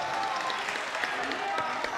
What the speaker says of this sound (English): look at the reaction it draws from the crowd